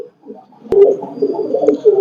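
Chinese teddy pigeons coo close by, a soft low rolling coo repeating after a sharp click, loud and alone without talk.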